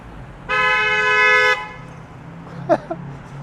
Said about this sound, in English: I don't blame the car for honking.